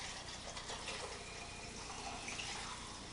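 Black and white film developer is poured into a developing tank in one continuous, even stream of liquid from start to end.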